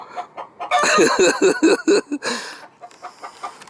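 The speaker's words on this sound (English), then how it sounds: "Hey, Chicken Little. Is that you, Chicken Little" A chicken clucks in a quick run of sharp, close, rhythmic clucks that taper into softer, scattered calls near the end.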